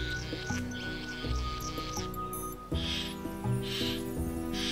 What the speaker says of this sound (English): His theatrics are accompanied by a cacophony of buzzing noises which travel through the forest.